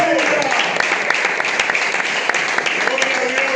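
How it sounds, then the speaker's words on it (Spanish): Loud, sustained applause from a church congregation, dense clapping throughout with some voices mixed in. "Fuertes aplausos para el Señor"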